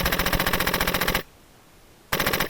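Bursts of full-auto fire from an HPA-powered airsoft Stoner 96 build, a dense rapid rattle lasting over a second, a short pause, then another burst, close and loud outdoors.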